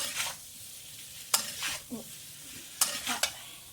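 Potatoes with cumin (jeera aloo) frying on a high flame, quiet background sizzle punctuated by several distinct spatula scrapes and stirring clinks against the pan, close.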